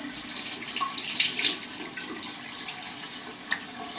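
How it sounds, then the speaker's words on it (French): Water runs from a bathroom tap into a sink for face washing, a steady broadband hiss of flow heard close and alone, with faint splashes and a couple of brief clinks along the way. "Alors on va allumer l'eau."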